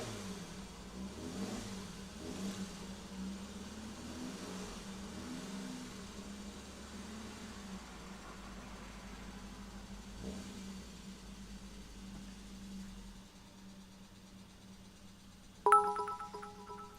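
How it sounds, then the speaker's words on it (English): A neighbour's car engine revs in a steady low drone from beyond the room, continuous and moderately loud, then cuts away near the end as a short ringing electronic tone sounds. "Tell your neighbour to go rev his engine somewhere else"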